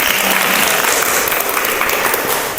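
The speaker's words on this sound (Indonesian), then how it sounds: "Tepuk tangan dulu buat Usia." Class applause, loud and close, with a dense burst of many hands clapping together that holds steady and eases slightly at the end.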